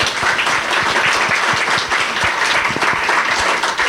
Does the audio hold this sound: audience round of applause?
yes